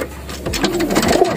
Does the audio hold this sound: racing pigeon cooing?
yes